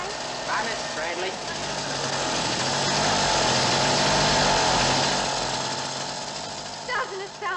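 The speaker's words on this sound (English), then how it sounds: "I want to buy Willie's motorbike" A motorbike engine runs with a rapid buzzing rattle in a country comedy scene, swelling louder toward the middle and easing off, while voices talk briefly over it near the start and end.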